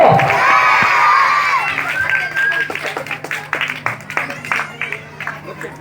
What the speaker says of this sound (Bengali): আপনারা জোরে একটু হাততালি দিন